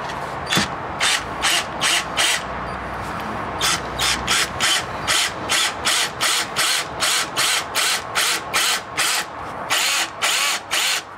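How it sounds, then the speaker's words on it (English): A power drill bores a hole into a wall with the hammer action switched off, for fitting trace heating. It runs in short repeated bursts with brief pauses, close and loud, with no voices. "I've switched off the hammer action on the drill till I get the hole started."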